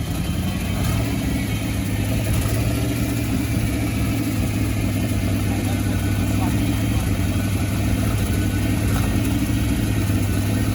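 A Chevrolet C10 truck engine, parked in park, runs steadily with a low, constant idle-like rumble throughout, only gently given some gas rather than sharply revved.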